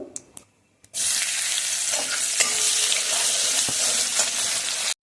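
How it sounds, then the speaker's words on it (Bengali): Chopped onions tossed into hot oil with tempered spices for a fish curry, frying toward brown; after a couple of brief clatters the pan bursts into a loud, continuous sizzle with stirring scrapes, no talking. "এবার এর মধ্যে কেটে রাখা পেঁয়াজটা দিয়ে ভালোভাবে পেঁয়াজটাকে বাদামি বাদামি করে ভেজে নেব"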